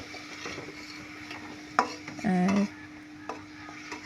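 Onion, garlic paste and spices frying in a pan for a pointed gourd and potato curry, stirred with soft scraping strokes over a faint sizzle, with a brief knock and a short squeaky scrape; a voice briefly says a single word.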